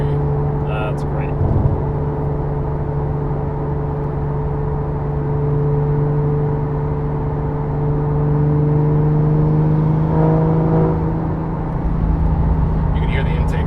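A Porsche GT3 engine drones steadily through its intake and exhaust at low revs and swells slightly partway through. Voices talk over the engine.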